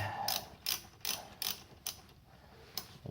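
Half-inch ratchet loosening the positive terminal nut on a GM LS4 V8 alternator: a steady series of about seven close, crisp ratcheting clicks at an even rhythm, with no talking.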